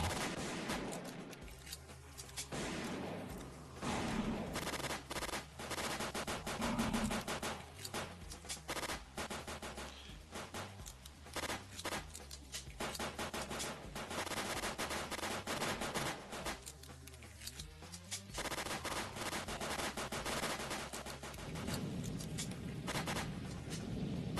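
Gunfire rattles in the Final Stand 2 video game, with rapid bursts and scattered shots repeating throughout at moderate, slightly distant volume.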